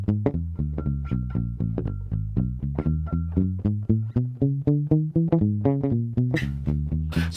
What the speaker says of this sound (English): I'm palm muting right there to make it sound different.